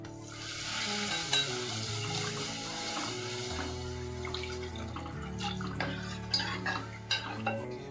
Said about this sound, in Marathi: आता त्याच्यामध्ये आपण काय करूया पाणी टाकून घेऊया